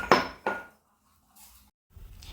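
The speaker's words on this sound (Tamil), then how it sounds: "நம்ம பூண்டு ஒரு 4 பல் இப்படி தோலோடு நசுக்கி எடுத்துக்கணும்" Four garlic cloves, skins still on, are crushed for tempering in a village-style kitchen: two sharp, hard knocks of a crusher against a metal surface, followed by quieter scraping and handling sounds.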